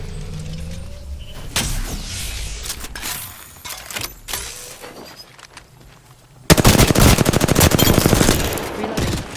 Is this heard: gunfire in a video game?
yes